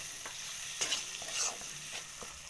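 Chopped tomato stirred with turmeric and chili powder in a frying pan: soft scraping strokes over a steady hiss of sizzling oil, close and fairly quiet, with no voices.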